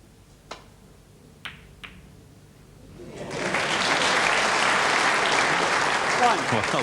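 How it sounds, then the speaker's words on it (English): A snooker crowd at the 1995 World Championship quarter-final, Ronnie O'Sullivan against Stephen Hendry, breaks into loud, sustained applause and cheering after a few sharp ball clicks in an otherwise quiet arena. "big cries from the crowd and cheers"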